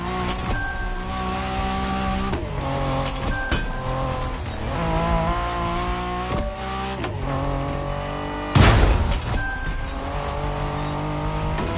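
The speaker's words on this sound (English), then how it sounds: "We have prepared a classic for you from a very famous German brand, the BMW Z4 M40i." A BMW Z4 M40i roadster drives in The Crew Motorfest racing game, its engine holding a steady, tonal drone with shifting pitch, then a sudden loud burst near the end.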